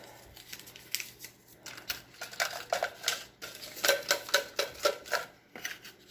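Small paper slips are folded and dropped into a cup, giving close, quiet rustles and crisp snips in an uneven run that grows busier toward the end, with no talking.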